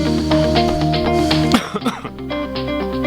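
A person coughs and clears their throat in a talk radio studio, a short burst of rough throaty sounds cutting across a steady musical bed.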